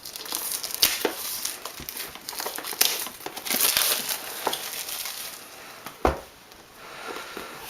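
Crinkling and crackling of packaging as a linen-finish board game box is opened up close, in irregular bursts of rustling and crumpling with short pauses.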